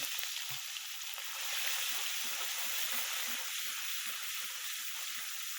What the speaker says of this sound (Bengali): পেঁয়াজটাকে একটু ভাজা ভাজা করে নেন, বেশি লাল করবেন না